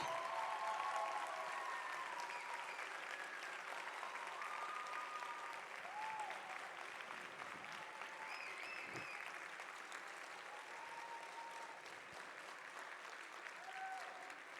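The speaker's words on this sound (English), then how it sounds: "turn around and give your families a big round of applause" Sustained applause from a large graduation commencement audience, a dense steady wash of clapping that carries on for the whole stretch with faint crowd murmur and occasional whistles.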